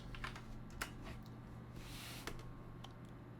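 Fingers tap out a short burst of keystrokes on a computer keyboard, quiet and close, with a low steady hum behind the clicks.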